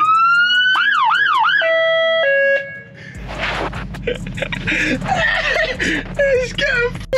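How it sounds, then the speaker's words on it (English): A fire engine's warning gear sounds nearby, first a rapid warbling siren wail and then a couple of steady horn tones, followed by clattering noise and people talking. "It's one of these wee horns."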